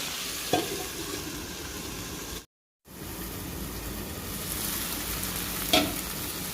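Jackfruit and potato with spices stir-frying in a pan for a jackfruit-and-prawn dish, giving a steady close sizzle with two sharp spatula knocks and a brief dead gap partway through.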